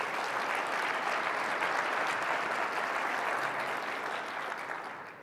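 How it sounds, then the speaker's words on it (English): Sustained audience applause at an AEC customer showcase celebration at Autodesk University in Las Vegas, a dense, loud wash of clapping from a large crowd that holds steady and then begins to taper off toward the end. "So let's give them a big round of applause."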